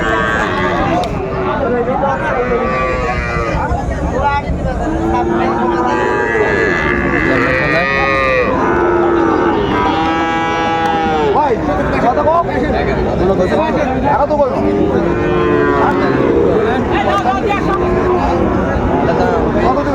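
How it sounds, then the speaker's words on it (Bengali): At a cattle market in Sylhet, a young Sahiwal bull gives several drawn-out, fairly close moos amid constant crowd chatter and bargaining voices. "শাহিওয়ালের মধ্যে ষাঁড় বাচ্চা।"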